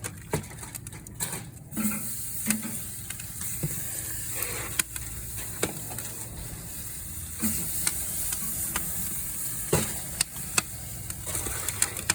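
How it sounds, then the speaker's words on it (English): Tri-tip searing on a hot Louisiana K24 Kamado grill, a steady crackling sizzle with scattered sharp pops and snaps running throughout. "we're about 2 minutes into this sear"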